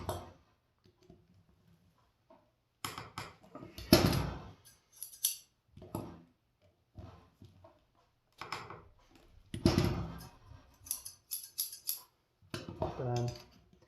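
Scissors snip in short bursts of sharp metallic cuts while being sharpened on an old-school Twice As Sharp sharpener, separated by quiet pauses, with some faint talk between.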